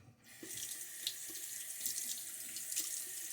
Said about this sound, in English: I added some more water to the bowl there